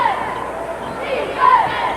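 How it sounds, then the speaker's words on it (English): A big sellout stadium crowd at an NBA basketball game, the Hornets' home arena, murmurs in a steady, fairly quiet babble with a brief swell of voices, heard from a distance with no clear speech. "Big sellout crowd in the stadium"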